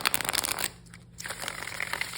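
Dense, rapid papery riffling of a tarot deck being shuffled, a short burst, a brief pause, then softer riffling resumes.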